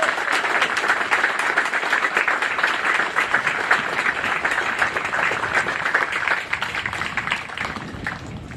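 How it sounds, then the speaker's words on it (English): Crowd of families and guests applauds soldiers of 23 and 24 Platoon at an army recruit march out parade, a loud sustained outdoor clapping that thins slightly toward the end. "Give them a massive round of applause."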